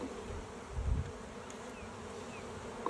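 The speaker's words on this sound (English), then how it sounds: "you can see the bees are kind of coming to the package" Bees buzz in a steady, low drone close by, with a faint hum continuing throughout and no talking.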